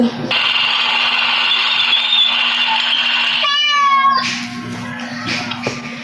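A cat tied to a moving tricycle yowls in distress, a sustained wavering cry over steady engine drone, ending in a rising, broken meow before the noise drops.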